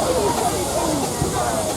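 Steady, loud steam hiss from a dark maroon or brown steam lorry at the Tinkers Park steam rally, a continuous broad rush without breaks.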